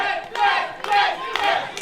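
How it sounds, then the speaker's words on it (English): A wrestling crowd at a BLW World Heavyweight Championship match chants in loud, rhythmic waves for Adam Maxted, three swells of massed voices rising and falling in quick succession. "A lot of Adam Maxted chants."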